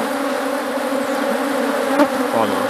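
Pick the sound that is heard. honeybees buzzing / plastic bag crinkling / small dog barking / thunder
honeybees buzzing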